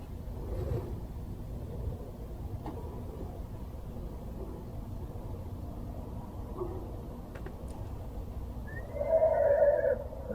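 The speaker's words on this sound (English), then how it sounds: "While recording strange horse-like sounds from the barn" A horse whinnies near the end, a shrill, wavering neigh rising over a low rumbling background with a few faint knocks earlier.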